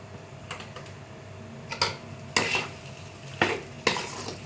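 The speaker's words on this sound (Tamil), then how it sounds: "இப்போ நம்ம முருங்கைக்காய் போட்டு கொஞ்சம் நேரம் அடிப்பிடிக்காமல் வதக்கிக்கணும்" Drumstick pieces being sautéed in a little oil in a pan for murungakkai puli kulambu, with a low steady sizzle broken by several sharp scraping clinks of a spatula against the pan, no voices.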